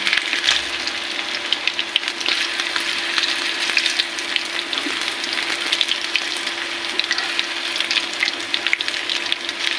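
Cauliflower pakora fries in hot oil on an induction stove, a continuous close sizzle and bubbling crackle with no talking.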